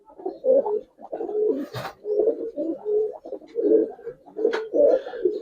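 Giribaz pigeons coo repeatedly after release, a run of soft, throaty rolling calls in close succession, near and clear, with a brief flutter or knock partway through.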